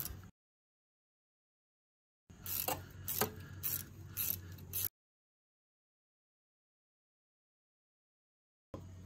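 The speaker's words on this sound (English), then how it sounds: "So let me get a socket. Okay, 13 millimeter." A 13 mm socket wrench turns a bolt on a 1600cc VW Beetle engine, giving one short burst of close ratcheting clicks and metal rasping. Silence sits on either side of it.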